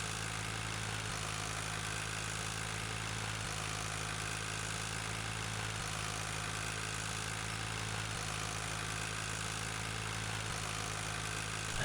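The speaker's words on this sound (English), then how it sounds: "Yeah, these are nice tractors." Tractor engine idling in Farming Simulator 2013, a steady low mechanical hum with a constant drone that holds evenly throughout, with no talk over it.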